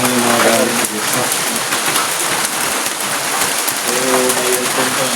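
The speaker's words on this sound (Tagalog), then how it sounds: "Malakas ng ulan kasi tayo dito." Heavy rain pours steadily on an old mountain mansion, a dense, loud, continuous hiss with faint voices at the start and end.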